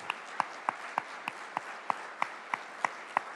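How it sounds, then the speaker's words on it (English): Steady, evenly spaced handclaps ring out in a large hall at a city State of the City address as the audience stands to honor police officers, each clap crisp and moderately distant. "will you please stand and we'll give you another round of applause"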